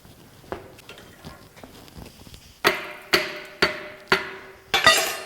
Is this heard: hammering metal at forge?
yes